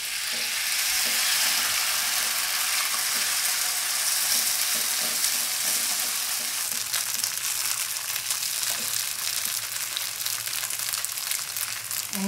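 Seafood green onion pancake batter fries in a hot oiled pan, giving a dense, continuous crackling sizzle with occasional scraping and crinkling from the spatula, steady and close throughout.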